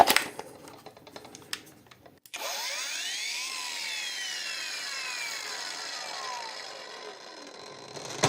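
A PATUOPRO PTA001601 cordless angle grinder is switched on after a few clicks of its buttons, then spins up to a loud, high whine that holds steady and winds down toward the end.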